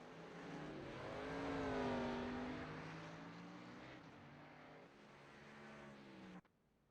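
Race cars in an Xfinity Series racing video game at Texas drive down the front stretch, engines whining and rising in pitch as they approach, swelling louder then fading before cutting off abruptly.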